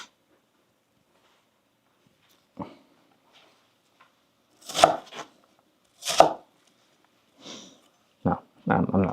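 A knife chopping onions on a board in a home kitchen while cooking a Thanksgiving meal, a few sharp isolated chops with pauses between them, close and crisp against near silence.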